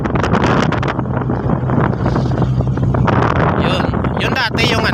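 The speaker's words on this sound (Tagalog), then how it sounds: "Lakas ng hangin." Strong wind buffeting the microphone with a heavy roar aboard a ship, over a low engine hum, loud and continuous.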